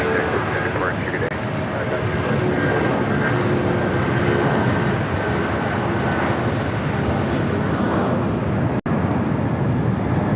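A heavy Airbus A350 lands on runway 25 left at LAX, a broad, steady jet roar filling the whole stretch while air traffic control radio talk runs over it.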